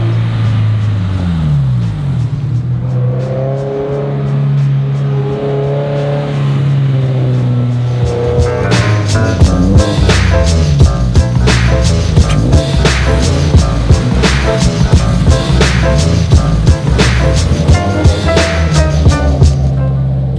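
A turbocharged Subaru BRZ driving hard through sharp turns, engine droning and rising and falling in pitch, then sustained loud revving with rapid rhythmic pulses, heard close and loud throughout.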